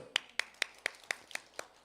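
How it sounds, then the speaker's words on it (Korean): A church congregation at a Sunday afternoon service claps in unison, seven sharp, evenly spaced claps about a quarter second apart, fairly quiet with no talking over them. "할렐루야. 박수."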